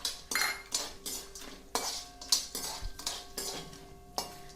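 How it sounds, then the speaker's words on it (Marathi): Dried turmeric root being fried and stirred in oil in a pan, with repeated sharp clinks of a metal spoon against the pan at an uneven rhythm over a soft frying hiss, close and alone. "हळकुंड आपण छानपैकी तळून घेणार आहोत।"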